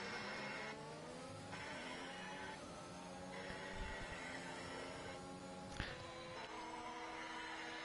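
Race cars roaring along a Yas Marina Abu Dhabi circuit in a racing video game, engine notes rising and falling through gear shifts, steady and moderately loud with a brief thump near the end.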